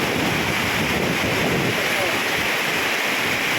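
Floodwater rushing over a road turned into a stream after heavy rain, a loud continuous roar of flowing water mixed with wind buffeting the microphone, close and unbroken.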